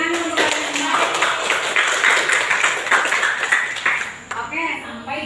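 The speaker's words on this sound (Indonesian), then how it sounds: "Tepuk tangan untuk kalian semua." A class of vocational high school students applauds after their group presentations. Clapping from many hands runs for several seconds as a lively, fairly close patter mixed with voices in the room.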